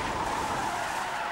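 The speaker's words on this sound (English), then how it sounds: "The officer's final ram sends the suspect skidding out of control." A suspect's car skids out of control after a police ram, with a loud sustained tire squeal and engine roar throughout, no talk.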